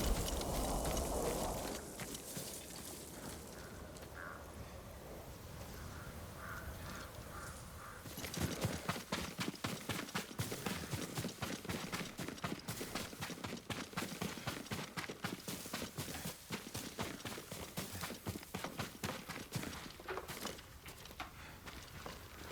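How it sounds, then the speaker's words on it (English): Horse hooves in the video game Ghost of Tsushima, a quiet ambient stretch giving way after several seconds to a fast, steady patter of hoofbeats that continues to the end at moderate loudness. "Yuriko's horse."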